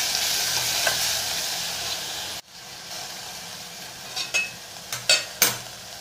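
Fenugreek leaves being stirred into a yogurt-based methi curry in a pan: a steady hiss and sizzle, a sudden drop in level partway through, then a few sharp spoon clinks and scrapes against the pan.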